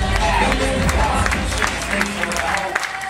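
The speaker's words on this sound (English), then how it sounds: "give them all a nice round of applause" Audience applause at a 2010 New York Fashion Week runway show of Christian Adore fashions: a dense, steady wash of clapping and cheering from a large crowd that fills the whole stretch without letup.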